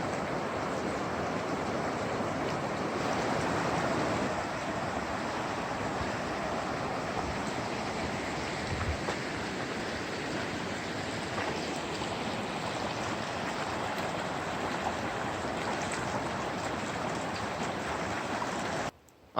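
The South Toe River in Pisgah National Forest, North Carolina, rushing steadily past a trail bridge, a broad continuous hiss of flowing water heard alone and close for the whole stretch.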